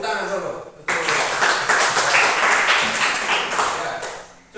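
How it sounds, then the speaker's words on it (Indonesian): A classroom group bursts into clapping after a short pause, the dense applause holding for several seconds before fading. Voices can be heard at the start and again under the clapping. "Tepuk tangan dulu."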